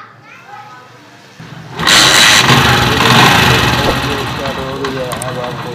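A Honda CD 70 motorcycle, 70cc, fires up after a quiet start and settles into a loud, steady idle that fills the rest of the stretch, with faint background sound before ignition.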